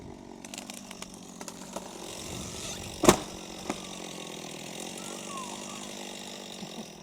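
A chainsaw runs steadily while making the back cut to fell a tree, a continuous mid-level whine through the whole stretch with a sharp crack partway through, outdoors.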